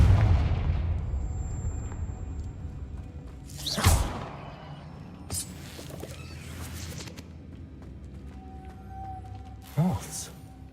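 Confringo blasting spells going off in Hogwarts Legacy: a few sharp, sudden explosive bursts spaced several seconds apart over a quiet, low background. A voice speaks between them.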